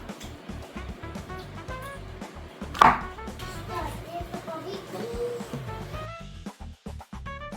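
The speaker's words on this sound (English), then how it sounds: "you want to go ahead and cut your mushrooms" Knife chopping mushrooms on a cutting board for a vegan spinach stir-fry, a run of sharp, regular close thuds with one louder clatter, while a person talks in the background.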